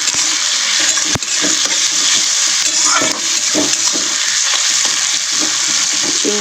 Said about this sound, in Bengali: চিংড়িটা একটু ভাজতে দিই